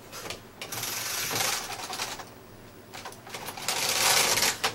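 A flatbed knitting machine carriage is pushed across the needle bed in repeated passes, each producing a close, rattling mechanical clatter and whirr, with short quieter gaps between strokes.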